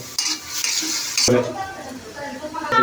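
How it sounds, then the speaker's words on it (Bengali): Sour yogurt lightly frying in a pan while being stirred, with close sizzling and a spoon scraping and clinking against the metal, plus a sharper clatter partway through. "টক দইটা দিয়ে একটু সুন্দর করে হালকা একটু ভাজাভাজি করে নিব।"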